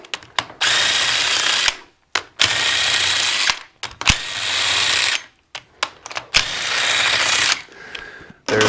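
A power tool zips bolts out of a Massimo MSU 700 top end in about six loud, close bursts of whirring ratchet, separated by short silent pauses.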